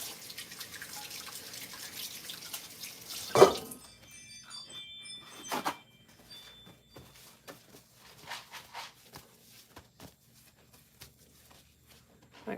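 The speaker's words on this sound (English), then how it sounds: "now I'm gonna wash my hands really quick" Tap water runs steadily from a kitchen faucet during a quick hand wash, a close broadband rush lasting a few seconds before shutting off with a thunk, followed by scattered drips and small handling sounds.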